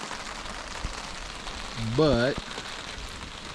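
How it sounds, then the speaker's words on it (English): Rain patters steadily on a camping tarp overhead during a solo trip, a soft continuous hiss close by, with a brief spoken word and a short whistle-like tone partway through. "Yeah, you probably can't see it on camera, but it's raining pretty good."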